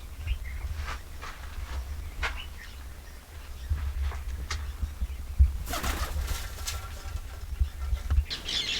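Freed pigeons coo softly, with occasional wing flutters and rustling. The sounds are faint and scattered over a constant low hum, and no one speaks.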